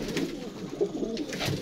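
Low, gentle cooing comes from pigeons on a rooftop loft in Faisalabad, with a few soft repeated calls heard faintly over quiet outdoor ambience.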